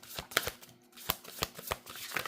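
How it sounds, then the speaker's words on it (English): Tarot cards being shuffled by hand in a series of quick, crisp riffles and taps, close and fairly quiet, with no talk. "But I'm gonna shuffle again because that was too much."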